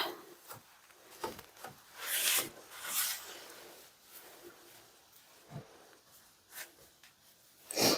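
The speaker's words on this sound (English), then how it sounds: "push the cloth in and just do it back and forth, rocking motion, and I'm able to polish the taps really good" A cloth rubs back and forth over bathroom taps in a rocking polishing motion, giving soft, close scuffing bursts that come and go irregularly, with quiet pauses between strokes.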